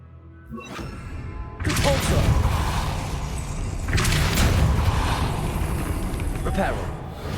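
A stone platform rising in Hogwarts Legacy, a sudden heavy rumbling grind that kicks in loudly and keeps churning with crashing, thudding surges, over a steady game background.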